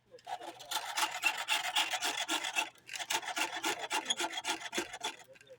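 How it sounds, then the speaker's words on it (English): Hickory being shaped with a hand tool on a reciprocating lathe gives a steady run of rasping, scraping strokes that pulse with the back-and-forth motion, close and fairly loud, with a short pause midway and no talking. "So I can come in with my tool then and shape this to whatever I want it to be that's round."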